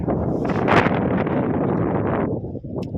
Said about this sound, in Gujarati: હવા એવી મસ્તની આવે, ઠંડી ઠંડી.